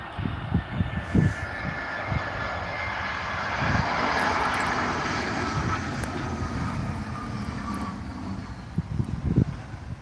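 A jet airplane rumbles steadily at Tenerife Airport on a hazy evening, its broad engine roar swelling and easing, with a few brief knocks and clicks nearby.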